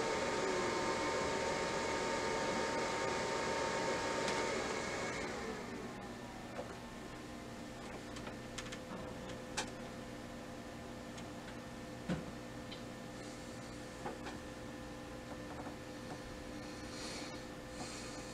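A Brother MFC L9550 laser printer restarts after a drum replacement, a fan-like whir fading out after a few seconds and leaving faint internal clicks and ticks at scattered moments.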